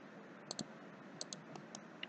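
Computer mouse clicks while working in CATIA V5 CAD software, several sharp, faint, close clicks spaced irregularly over a quiet background.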